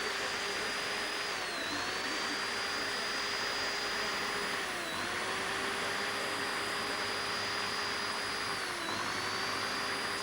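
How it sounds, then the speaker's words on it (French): Electric drill running steadily for about ten seconds, a constant loud whine with slight dips in pitch now and then, close and alone with no talking. "Comment être sûr de percer bien droit?"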